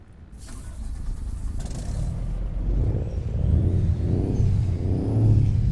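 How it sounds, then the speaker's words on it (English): A simulated Mercedes-Benz Atego 2425 truck with a V6 BlueTEC engine in Euro Truck Simulator 2 cranks and starts, settling into a low, steady diesel rumble that grows slightly louder and throbs at idle. "The starting up sounds different"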